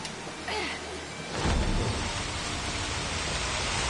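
Steady rain in the video game Final Fantasy XV falls as a dense, continuous hiss that thickens and grows louder about halfway through, with a brief crackling burst at the start.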